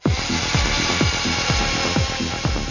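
A hand drill as a machine tool whines loud and steady, with a rhythmic chugging pulse repeating about twice a second under the constant high motor tone, with no voices.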